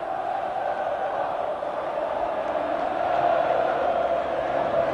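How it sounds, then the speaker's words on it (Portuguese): Corinthians supporters celebrating a São Paulo state championship title in 1998, a distant massed crowd roar that is steady and broad and swells slightly toward the end. "A festa da torcida corintiana."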